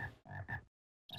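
A frog gives three quick raspy croaks in a row, a short pause, then starts another, close and clear with no talking.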